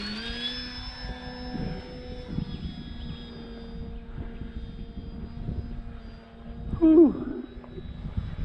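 American Champion Super Decathlon light airplane in flight in gusty wind, a steady, loud droning engine tone with a brief louder swell near the end.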